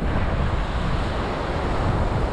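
Waves wash in continuously at Hac Sa Beach in Coloane, Macau, a broad steady surf roar mixed with wind buffeting the microphone.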